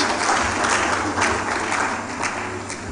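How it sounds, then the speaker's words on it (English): Loud, close applause from an audience at a women's leadership project closeout event in Nigeria, a thick steady clatter of clapping that tapers slightly toward the end. "So round of applause for you, please."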